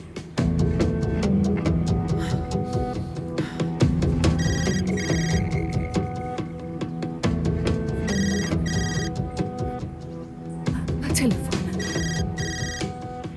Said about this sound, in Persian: تلفن اویا زنگش همینه